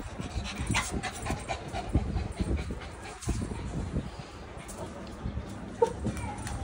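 A dog pants steadily and gives faint whimpers, close by and alone, with no talking over it.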